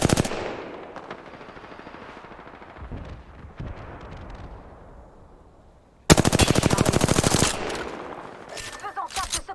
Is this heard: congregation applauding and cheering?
no